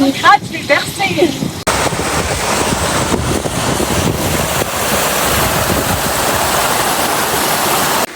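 Heavy rain in a thunderstorm pours down steadily and loudly on a slippery outdoor trail on the way to a spring, a dense, unbroken wash of noise after a brief opening of voices and handling.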